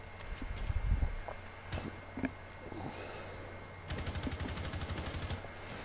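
Gunfire in the shooter game Rainbow Six Siege: scattered single shots early, then a fast rattling automatic burst toward the end, all fairly faint and distant.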